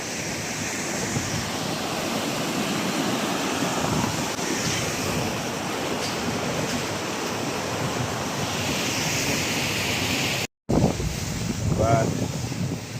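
A rushing mountain river in the Himalayan high country near Tengboche roars in a dense, constant wash with wind buffeting the microphone, cut by one brief dropout before resuming.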